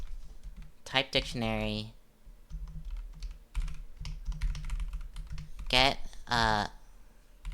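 Rapid clicking keystrokes on a computer keyboard run steadily and close up throughout, while a person speaks briefly over the typing.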